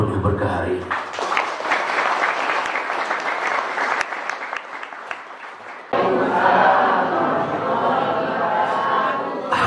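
A large audience at an Indonesian gathering breaks into sustained applause, steady and full throughout, with crowd noise underneath and a louder surge near the end.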